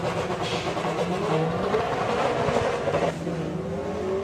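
Race cars roar steadily at a Santa Pod drag strip during VW Drag Racing Club eliminations, engines droning loud and continuous with a rising tone near the end, with no voices over them.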